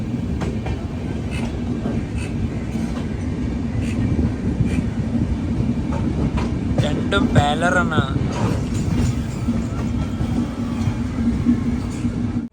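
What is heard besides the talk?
Gorakhdham Superfast Express train passing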